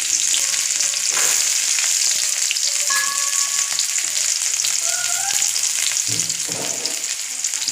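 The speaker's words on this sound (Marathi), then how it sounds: "कढई तापलेली आहे आपण आता वाटण परतून घेऊया" A ground masala paste with onion frying in a hot kadhai, loud constant sizzling and crackling with intermittent stirring scrapes throughout.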